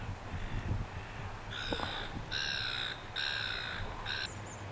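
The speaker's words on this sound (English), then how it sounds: "And seagulls." Gulls call near the water's edge by the River Derwent, a series of harsh, evenly spaced cries repeating in short bursts above a steady outdoor background, with no talking.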